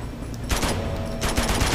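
Gunfire in Uncharted 2: Among Thieves comes as two loud, rapid bursts of automatic shots over a dense background of game sounds.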